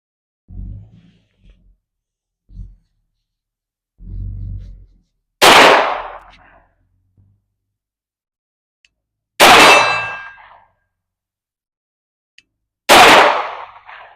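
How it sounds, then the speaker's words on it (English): Three loud, sharp metallic clangs from Glock 19 pistol rounds striking steel targets at an outdoor range, spaced several seconds apart, with faint muffled shot reports and low rustling before the first hit. "Let's see what Lee can do with the Glock 19"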